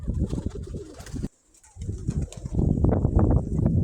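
Pigeons cooing and flapping wings outdoors in the wind, close and fairly loud, with a brief near-silent pause before the wingbeats and calls resume.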